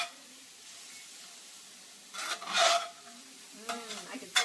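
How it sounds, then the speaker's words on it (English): Chicken, potato and asparagus with pepper flakes are stirred in a skillet. Quiet at first, then scraping spatula strokes and bursts of soft sizzling come in the second half. "Give that a good stir."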